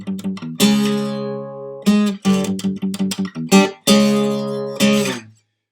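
An electric guitar in E standard tuning plays a riff of repeated chords and single notes, loud and close, with brief gaps between phrases, ending on a ringing chord.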